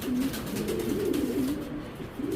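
A pigeon, a racing hen from 2017, coos close by, a low warbling rolling call repeated over a quiet background.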